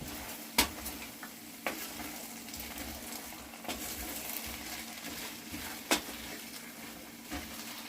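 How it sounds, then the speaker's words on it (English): Chicken cooking in a pan is stirred with a quiet utensil, giving faint sizzling under soft, sharp taps and clicks against the pan that come at irregular moments. "I'm going to give it another stir."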